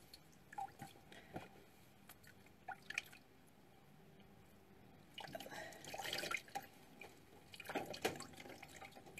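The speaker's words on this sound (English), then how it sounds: "And then just put it into the clean water" Raw sheep fleece being rinsed by hand in a basin of clean water during washing, with soft drips, splashes and squishy sloshing that come in quiet bursts, close up and with no talk.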